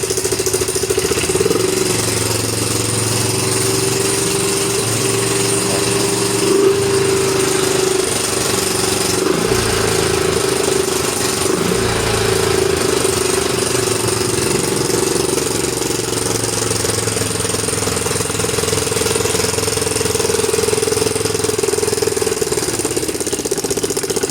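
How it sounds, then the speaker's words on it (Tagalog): Honda Mio i 125 scooter engine running with a loud internal knocking, a steady dense mechanical clatter over a continuous idle drone, close and unbroken throughout. "So parang may nag-uumpugan sa loob."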